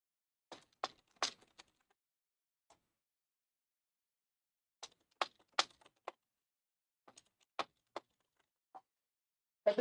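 Sparse key clicks on a computer keyboard, loud and close, come in short irregular clusters separated by silent pauses.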